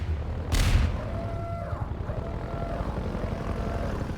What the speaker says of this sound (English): That was so loud. Like the helicopter.